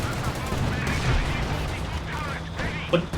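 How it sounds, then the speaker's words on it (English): Panzer IV tank firing its cannon at Royal Engineers in Company of Heroes 2, a heavy boom among dense battle noise with gunfire, the shot thudding loud under and between commentary. "Big shot from the Panzer though onto those Royal Engineers"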